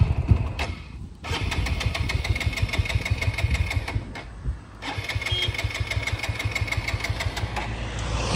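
A 2024 TVS Apache RTR 160 4V motorcycle in neutral with its petrol completely run out, starter cranking close up in two long rapid pulsing bursts separated by short pauses, never catching.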